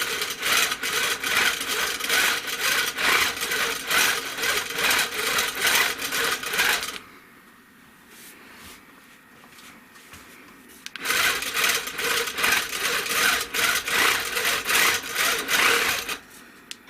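Sewing machine stitching background quilting around a ribbon candy design, loud rapid steady running that stops for a few seconds of quiet, then resumes at the same fast pace.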